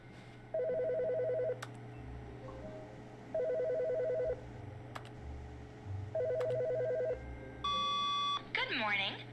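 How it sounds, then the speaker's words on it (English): An office telephone rings in The Stanley Parable video game, three loud electronic trilling bursts separated by pauses, followed by a few beeps and a warbling tone at the end. "the phone's ringing again."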